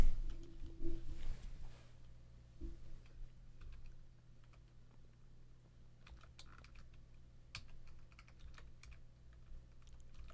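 A project name typed on a computer keyboard, a run of quick light key clicks up close and quiet, with a low background hum and a few heavier thumps near the start.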